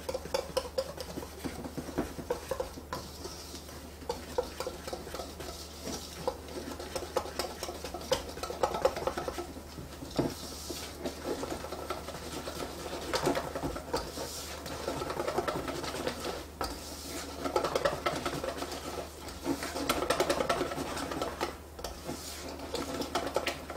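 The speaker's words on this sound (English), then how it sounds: "I'm just going to whisk all of that together." Powdered sugar, heavy cream and vanilla are whisked together in a bowl into a glaze for apple fritters, giving a steady, rapid clatter and scrape of the whisk that runs without pause. No one speaks.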